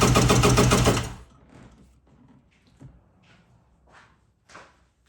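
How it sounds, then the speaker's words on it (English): A Kawasaki jetski engine is cranked with the throttle held wide open for a compression test, giving about a second of fast, loud, rhythmic churning before it stops, leaving faint clicks and shuffles. "We are going to hold our throttle wide open and just crank this thing."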